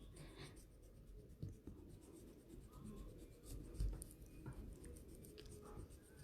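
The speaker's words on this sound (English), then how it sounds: "I'm just going to grab a rubber and I'm just going to rub those out the best I can" Quiet, steady scratchy rubbing of a rubber eraser on paper, erasing pencil marks, continuous for several seconds with small bumps and no voices.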